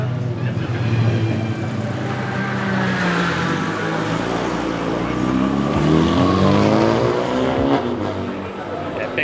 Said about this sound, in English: we're sat here in the pit lane in the Nurburgring about to do some laps in our race car